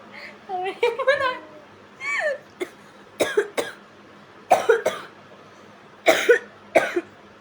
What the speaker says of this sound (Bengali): উফ, কাশি দিলে জীবনটা হারিয়ে দেয়।